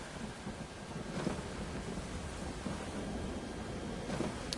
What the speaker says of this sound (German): Weil wenn sich hier jetzt ein richtiger Sturm zusammenbraut...